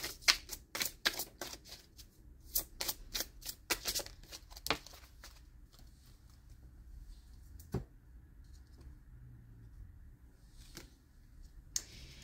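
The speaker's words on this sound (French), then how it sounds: "alors une dernière carte avec l'oracle des couleurs" Cards from a colour oracle deck being shuffled and drawn, a quick run of crisp riffling flicks at the start, then quiet with a few isolated taps and rustles.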